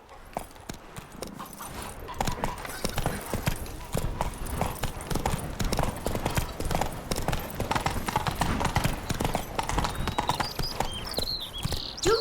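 Roach the horse gallops in The Witcher 3: Wild Hunt, loud steady clip-clop hoofbeats running throughout, with a brief whinny-like sound near the end.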